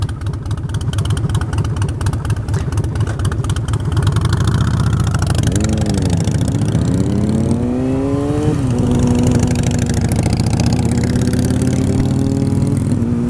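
A motorcycle engine runs steadily while riding alongside a small pickup, with a strong low drone that climbs in pitch through gear changes as it accelerates, close and continuous with no talk.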